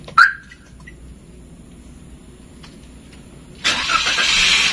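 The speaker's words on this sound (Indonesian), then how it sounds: "sekarang saatnya kita akan menstarter dari remote" A short chirp sounds from a remote starter, followed by a few seconds of quiet before a Toyota Calya's engine cranks and catches, settling into a steady idle.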